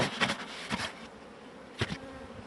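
Honeybees buzz around a beehive frame during hive work, a steady close hum of many bees with a few louder passes as individual bees fly near.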